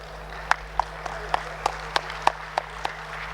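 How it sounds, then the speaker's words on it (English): Scattered, evenly spaced claps ring out in a hall at an award ceremony for a lifetime achievement award. About ten crisp claps fall in a slow rhythm over a low steady hum, with no talk. "A huge round of applause, ladies and gentlemen."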